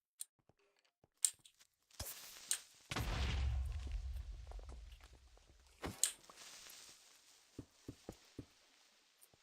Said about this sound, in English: That explosion effect was cool as hell, though.